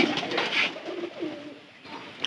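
A pigeon coos close by in a few soft, low, rolling calls, with no talking.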